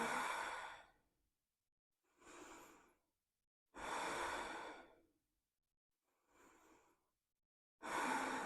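Slow, deep exhaled breaths during a core-stability yoga session, five long airy breaths in an even rhythm with quiet gaps between them, close and soft, with no talking.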